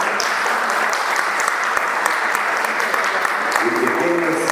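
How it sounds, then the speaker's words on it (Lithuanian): A concert audience applauds to welcome a violinist before an orchestra performance, giving steady, dense, loud clapping throughout with a voice faintly under it near the end. "Pasitikite aplodismentais."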